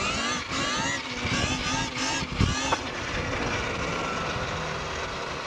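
An electric KTM Freeride E-XC dirt bike rides a wheelie, its steady electric motor whine rising in pitch and then holding amid continuous road and wind rumble.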